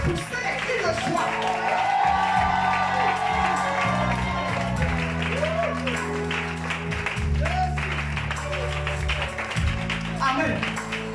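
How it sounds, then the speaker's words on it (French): A French-speaking church congregation cheers, shouts for joy and claps during a worship service. Loud, dense crowd noise with whoops and many voices runs unbroken throughout. "Est-ce que tu peux pousser des cris de joie?"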